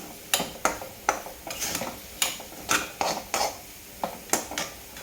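Dry besan (gram flour) being stirred and roasted in a kadhai, a spoon scraping and knocking against the metal pan in a steady series of sharp clinks and scrapes, close and clear with no talking.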